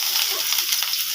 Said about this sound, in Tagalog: Mainit na, lagyan na natin yung bawang tsaka sibuyas mga tropa.